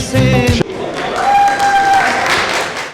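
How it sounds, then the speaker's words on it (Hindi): Crowd applause welcoming Shahid Bangash, a restaurant chain owner, at a Pakistani Independence Day celebration abroad, opening with a loud thump before clapping swells and carries on with voices mixed in. "जोरदार तालियों में इस्तकबाल कीजिए शाहिद बंगश"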